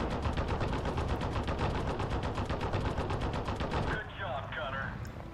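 Rapid, sustained gunfire from a Sherman tank and a Wolverine tank destroyer in a video game, dense continuous bursts at full volume for about four seconds, then cutting to quieter ambient rumble with a faint electronic tone.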